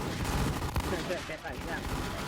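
Video game gunfire, a burst of quick muffled shots under a man's excited chatter, fairly faint behind a busy background.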